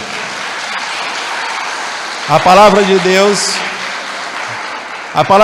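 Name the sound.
church congregation applauding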